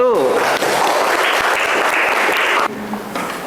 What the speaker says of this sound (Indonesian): Baik, tepuk tangan untuk kelompok 1.